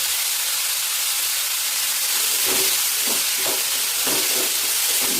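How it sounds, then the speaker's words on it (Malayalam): Onions and green chillies sauté in hot oil with mustard seeds and curry leaves for an egg curry, giving a steady loud hiss with faint irregular crackles throughout. "നമ്മുടെ സവാളയും പച്ചമുളകും കൂടെ കടുപൊട്ടിച്ച് കറിവേപ്പില ഇട്ടിട്ട് നല്ലതായിട്ട് വഴക്കിയെടുക്കണം"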